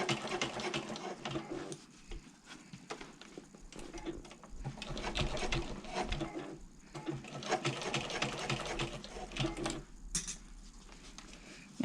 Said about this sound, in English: Okay, sewing that curve again, coming down on the seam